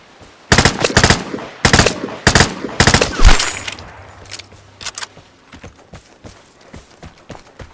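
Loud, close bursts of rifle and automatic gunfire during a gunfight in the shooter Vigor, several sharp volleys in quick succession before fading into quieter scattered shots and rustling.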